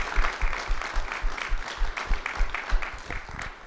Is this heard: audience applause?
yes